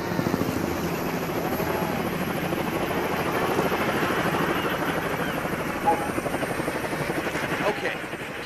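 Helicopter landing nearby in the National Geographic VR game on Oculus Quest, a steady broadband rotor and engine roar running throughout at moderate loudness, with no voices over it.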